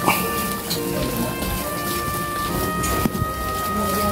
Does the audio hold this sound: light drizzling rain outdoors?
yes